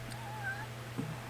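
A cat gives one short, close meow over a low steady background hum, with no talking.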